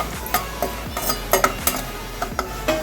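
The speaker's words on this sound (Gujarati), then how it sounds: "કાજુ અને બદામના ટુકડા સેલો ફ્રાય થઈ ગયા છે" Cashew and almond pieces shallow fry in a pan with oil, giving a soft sizzle broken by repeated clinks and scrapes of a spoon stirring against the metal, close and fairly quiet.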